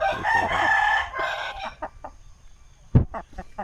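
An RTL Basilan native chicken crows loudly up close, a drawn-out call followed by short clucks and a sharp flutter or knock near the end.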